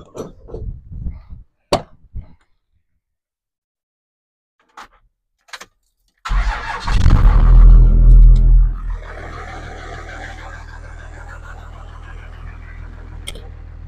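A diesel truck burning used oil as fuel cranks and fires up with a loud, close roar that settles into a steady rumbling idle, after a few scattered clicks and handling noises.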